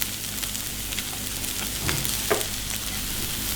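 Finely chopped carrots frying in a hot pan, a steady close sizzle with a few brief stirring scrapes and crackles partway through and no talking.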